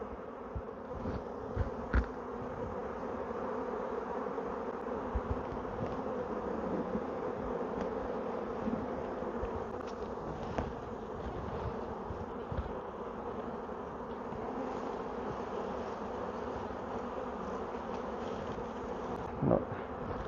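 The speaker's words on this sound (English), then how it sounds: "Lots of bees on there." Honeybees buzz steadily over a hive frame during queen marking, a dense, continuous hum that stays close and moderately loud throughout, with no talking.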